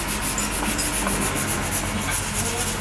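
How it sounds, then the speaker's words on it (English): A concrete column on a house building site in the Philippines is sanded by hand before painting, a close continuous rhythmic scraping and rubbing with no talk. "Still more sanding ahead of painting the ceiling."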